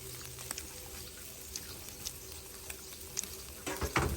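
Grasshoppers fry in hot oil in a pan, giving a quiet, steady sizzle with small scattered pops and crackles, and a louder stirring rustle near the end.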